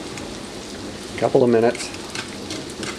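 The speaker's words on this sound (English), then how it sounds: "Frying up pickerel. Walleye pickerel." Fresh walleye pickerel fillets coated in egg and breadcrumbs fry in a pan with a close, steady rain-like sizzle, and a voice speaks briefly over it.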